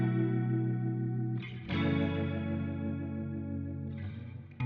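Electric guitar run through a tube modulator, chorus and Valhalla Vintage Verb reverb, held chords shimmering with wavering modulation and a washy tail, with a couple of strummed chord changes.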